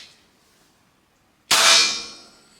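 A pellet from an FX Impact air rifle strikes a metal target with one sharp, bright clang that rings out and fades over about a second, following near silence.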